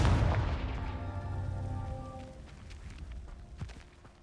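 A Confringo explosive spell from Hogwarts Legacy bursts with a loud, low boom at the start, then a fiery rumble with ringing tones fades over several seconds, with a few faint crackles near the end.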